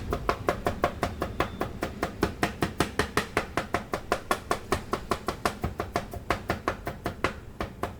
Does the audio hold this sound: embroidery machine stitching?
no